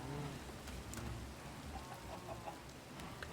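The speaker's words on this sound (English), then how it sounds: "Let's get rid of this stupid rain" Steady Minecraft rain hisses across the whole clip at a constant level, with faint chicken clucks and small scattered ticks mixed in over a low rumbling bed, and nobody speaks.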